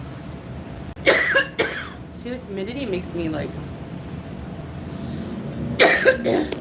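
A few sharp coughs near the start, then a person talks, followed by another burst of coughing near the end.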